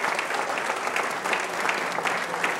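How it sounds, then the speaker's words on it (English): Steady applause from a dinner audience at an honorary degree event, a dense even patter of many hands clapping throughout, with no voices rising above it. "please join me in a round of applause for Professor Alice Carter of the Department"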